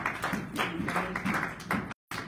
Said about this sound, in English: Keep it going for Deb Priesly.